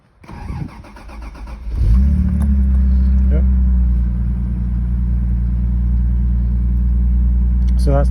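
A 1985 Toyota Celica Supra cold-starts: a brief cranking, then the engine catches around two seconds in and settles into a loud, steady idle close by, with a faint click near the end.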